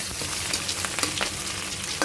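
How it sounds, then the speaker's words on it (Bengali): Chopped onion sizzles steadily in hot oil in a pan while a spicy pabda fish jhal is being cooked, a dense, even crackle with small pops and no voices. "যখন মোটামুটি ভাজা হয়ে আসলো পেঁয়াজ"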